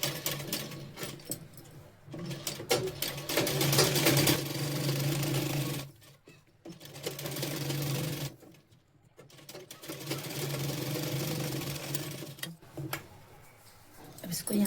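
A sewing machine stitching a blouse in runs of rapid mechanical chatter lasting a few seconds each, separated by brief pauses, with someone talking over and between them.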